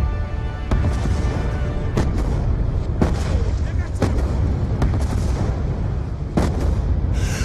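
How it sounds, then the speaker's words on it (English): Mortar shells explode in repeated heavy booms during a Call of Duty Black Ops 2 battle, the loud blasts landing at irregular intervals over a constant rumbling din of gunfire, with voices mixed into the chaos. "The mortars have stopped!"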